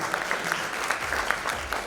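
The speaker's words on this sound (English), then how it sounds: "Can we have a huge round of applause for this lovely panel?" A conference audience applauds steadily, a dense patter of many hands clapping without pause, fairly close and even in loudness.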